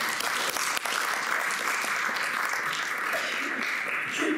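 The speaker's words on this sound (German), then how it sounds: "das war entweder ein Applaus für dich oder für den britischen Humor" An audience at a conversation and reading about African art gives sustained, steady applause that fills the room from start to finish.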